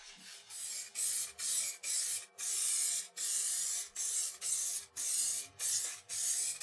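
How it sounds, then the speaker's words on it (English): Rubbing down the lacquered rim of a woodturned platter by hand, about a dozen quick strokes in a steady rhythm, close and fairly quiet with brief pauses between strokes. "Just giving it a little rub down."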